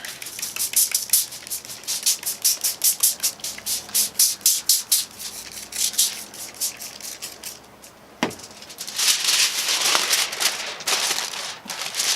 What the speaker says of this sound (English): I'm gonna go ahead and shoot these with some more apple cider vinegar